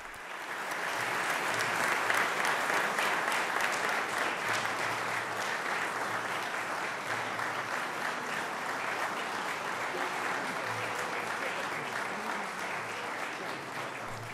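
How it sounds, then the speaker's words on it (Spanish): Sustained, even applause fills a hall in Malta after Pope Francis addresses the authorities, many hands clapping steadily at a moderate distance for about fourteen seconds. "El aplauso de la sala al discurso extenso que ha dirigido el Papa Francisco"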